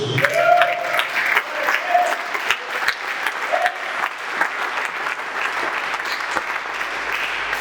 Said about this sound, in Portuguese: Diga palmas para Jesus.